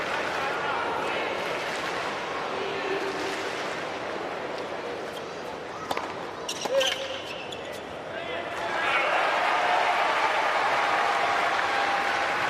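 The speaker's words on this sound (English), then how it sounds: "Those couple of points, the crowd just going off." A tennis crowd at the United Cup final in Sydney, Poland against USA, murmurs and then erupts into loud cheering and applause near the end, with a commentator talking over it.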